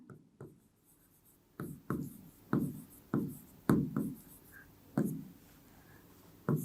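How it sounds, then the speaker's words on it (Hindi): A pen writes out a Class 6 ratio and proportion maths solution on paper. Crisp scratchy strokes come in short separate bursts with pauses between them, close and clear, with no talk. "तो लिखेंगे फॉर राजू"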